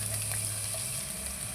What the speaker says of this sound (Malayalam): വറുത്തെടുക്കാനുള്ള സവാള നമുക്ക് ഇതിലേക്ക് ഇട്ട് കൊടുക്കാം